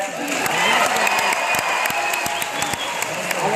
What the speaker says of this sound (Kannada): ಅವರಿಗೆ ಚಪ್ಪಾಳೆ.